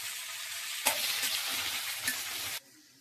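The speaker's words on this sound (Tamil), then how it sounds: "இப்போ பொடி பொடியாக கட் பண்ண 2 தக்காளி நம்ம இதில் ஆட் பண்ணி நல்லா வதக்கி விட்டுக்கலாம்." Chopped tomatoes hit a pan of fried garlic and dried chillies with a sudden loud sizzle that carries on with stirring for about two seconds, then cuts off to quiet hiss; no one speaks.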